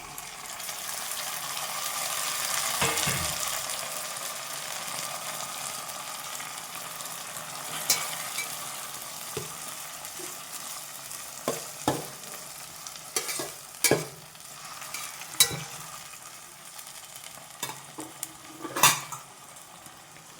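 Onion pieces browned in a pan sizzle steadily as tomatoes are added for a fenugreek-leaf dal, with repeated spoon scrapes and metal clinks over the constant frying hiss.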